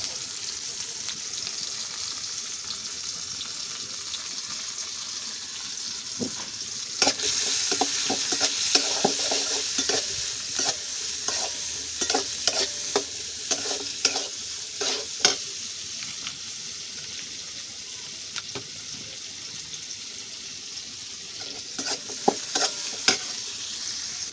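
Chopped onions and green chilies fry in oil in a pan in a village kitchen, a steady sizzle running throughout. Scraping stirs break in repeatedly, clustering in the middle stretch, with occasional sharper clinks near the end.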